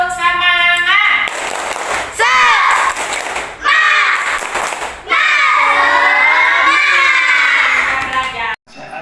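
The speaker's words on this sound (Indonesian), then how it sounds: "Ayo sekali lagi, tepuk semangat." Classroom of children doing a rhythmic clapping cheer, loud group shouting and chanting in bursts with claps mixed in, close and energetic throughout.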